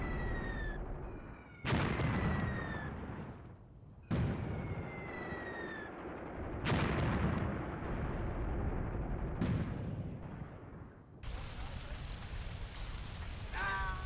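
Artillery and gunfire in Graviteam Tactics: Mius Front, heard as a string of heavy booms spaced a few seconds apart, each with a sharp onset and a long rumbling decay, loud and fairly close, over constant crackling battle noise.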